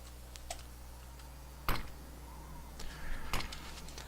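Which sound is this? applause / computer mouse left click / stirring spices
computer mouse left click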